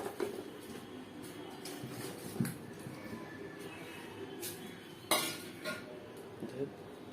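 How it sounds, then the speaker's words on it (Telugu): Washed chicken pieces go into a pot for chicken dum biryani, with faint clinks of a spoon against metal and soft scraping and thuds throughout. "శుభ్రంగా వాష్ చేసుకుని ముందుగా చికెన్ వేసేసుకుంటున్నాను"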